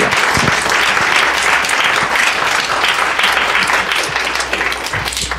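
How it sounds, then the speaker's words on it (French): A studio audience applauds loudly and steadily for several people just introduced on a programme about blogs, a dense, even wash of clapping that tapers off at the end. "Je vous demande bien entendu de les applaudir."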